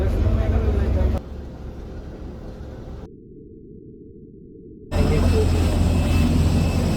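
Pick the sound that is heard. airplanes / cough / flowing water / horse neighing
airplanes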